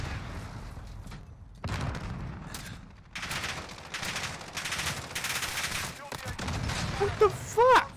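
M13 rifle fire in Call of Duty: Modern Warfare, rapid automatic bursts in several separate strings with pauses between, loud and close, with a voice over the shooting near the end.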